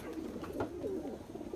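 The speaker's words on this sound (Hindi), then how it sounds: "ये 4 घंटे उड़ने वाले कबूतर है" Pigeons of a long-flying Nagpuri breed coo softly in a steady, low, rolling murmur, close by and alone with no talk.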